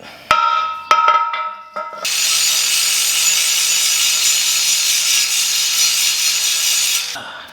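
A power tool grinds down a flared edge on a car's exhaust mid pipe, with a few sharp knocks at the start and then a loud, steady abrasive whine held for about five seconds, close by.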